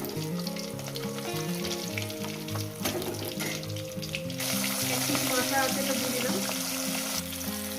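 Pond fish frying in hot oil in a pan for a home-style Bengali fish curry: a loud, continuous close-up sizzle and crackle with occasional stirring, growing harsher partway through.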